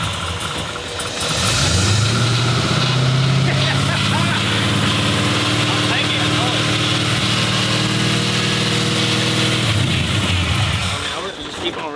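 A 1967 Chevy Camaro RS engine, with the car up on stands, roars steadily at high revs for about ten seconds, holding a loud sustained drone before dropping back off.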